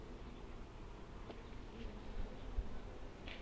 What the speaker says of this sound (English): it's got a lot of bees in there still